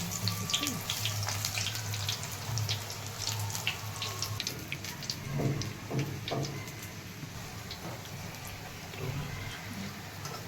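Spinach bhaji fritters coated in batter fry in hot oil with a steady, close hiss and crackle that holds throughout, with a few sharper pops along the way.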